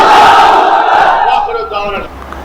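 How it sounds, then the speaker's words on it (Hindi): A large rally crowd chants the Takbir slogan back in unison, a loud, massed roar of many voices that swells at once and then trails off. "तो मेरे साथ नारा लगाइए, नारे तकबीर, नारे तकबीर, नारे तकबीर"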